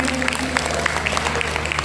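Audience clapping at a Bhagavat Katha religious gathering in Bakarpur, a short dense patter of hands over a steady tonal hum from the sound system.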